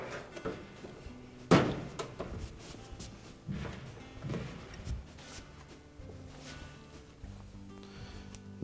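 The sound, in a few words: Frigidaire dryer front panel being slid back into place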